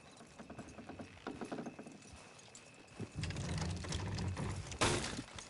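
Horses' hooves clip-clop steadily in Red Dead Redemption 2, a light rhythmic patter that grows louder and denser partway through, with a heavier thump near the end.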